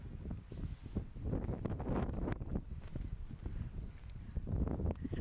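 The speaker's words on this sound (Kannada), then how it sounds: "ತುಂಬಾ ಗಾಳಿ ಇದೆ, ಬಟ್ ವಾತಾವರಣ ತುಂಬಾ ಚೆನ್ನಾಗಿದೆ." Strong wind gusting across hilltop rocks at Melukote, buffeting the microphone in uneven low rumbling bursts throughout.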